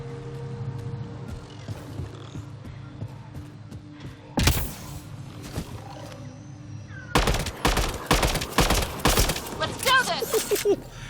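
Rapid bursts of gunfire from a weapon in the sci-fi shooter Mass Effect Andromeda, one sharp volley early then a dense cluster of shots later, mixed with game effects and a speaking voice.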